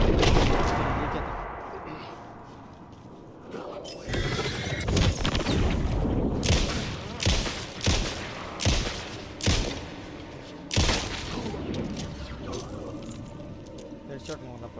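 Gunfire from the Alan Wake 2 video game: a string of sharp, loud shots, several spaced a second or so apart, set over a dense rumbling game soundscape.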